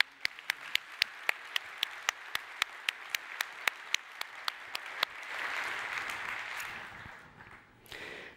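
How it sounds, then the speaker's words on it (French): Applause at a French security talk on Kerberos delegation: a run of crisp, evenly spaced single claps gives way to a short swell of mixed crowd clapping that fades out. "j'aimerais un tonnerre d'applaudissements pour Hexbox"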